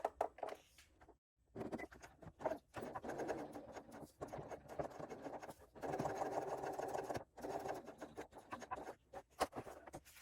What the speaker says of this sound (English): sewing through the side panel and this remaining seam allowance here